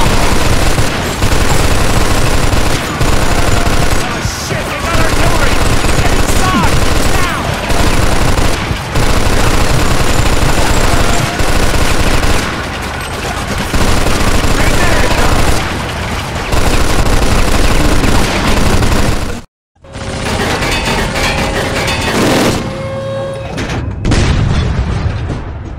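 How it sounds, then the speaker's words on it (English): Loud, nonstop artillery booms and rapid machine-gun fire fill a battle scene in the video game Mafia 2, with overlapping blasts and bursts, a brief drop to silence, then more explosions and shooting. "Shit, they got artillery!"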